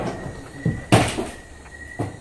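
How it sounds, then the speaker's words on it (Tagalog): A door being locked in a creepy building: a soft clunk, then one sharp loud clack, and another knock a second later, over a faint steady hum. "Ayan, nilock yung pinto."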